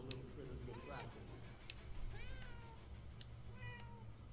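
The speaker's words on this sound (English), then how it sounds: "I always thought the cat was up on the bookshelf, but obviously not." A cat in the video game Murdered: Soul Suspect meows several times with rising and falling cries at low overall volume over a steady background hum.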